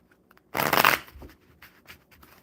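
A deck of cards is shuffled once in a quick, close riffle burst, followed by a few soft taps and small handling sounds as the cards are squared up.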